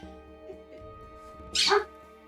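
A dog gives one short, loud bark or yelp, standing out clearly against a quiet room with low background hum.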